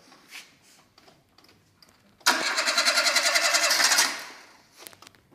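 Engine of a 1990s three-door Renault Clio 1.2, just swapped in, cranks and catches, running loudly for under two seconds before cutting off, with faint talk before and after.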